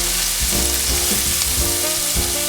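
Pancetta with crushed garlic and minced shallots sizzles and fries in a pan, a steady close crackle with low bumps from stirring running throughout.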